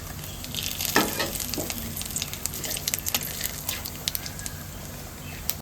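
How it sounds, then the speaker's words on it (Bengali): Bay leaf, dried chilli and cumin sizzle steadily in hot oil for a fish dish, a close, crackling fry with scattered pops and a stirring scrape near the start, no talk. "এবার মাছের জলে ফোড়নে দেবো তেজপাতা শুকনো লঙ্কা আর জিরে"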